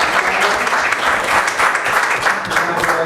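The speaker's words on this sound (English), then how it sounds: "give him a round of applause" A room of people at a school board business meeting claps together in a dense, even round of applause, loud and close, sustained without a break for the whole few seconds.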